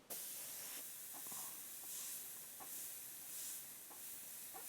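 An airbrush sprays dark brown and black paint in a steady, faint, airy hiss, swelling and easing in gentle bursts with soft clicks in between.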